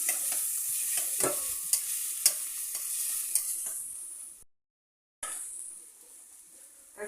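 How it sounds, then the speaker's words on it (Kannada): A spiced mixture with chilli powder, turmeric and salt stirred in a hot pan for pani puri, giving a steady sizzle with repeated scraping strokes of a spoon, a brief silent gap, then quieter sizzling. "ಸ್ವಲ್ಪ ಸಾಲ್ಟ್ ಹಾಕಿ ಚೆನ್ನಾಗಿ ಮಿಕ್ಸ್ ಮಾಡಿ"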